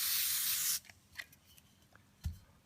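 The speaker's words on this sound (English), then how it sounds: "I'm going to spray from here around to here 2 or 3 times" WD-40 spray lubricant hisses in one loud sustained burst onto a 2WP secateur, followed by small clicks and rubbing handling noises as the spray stops.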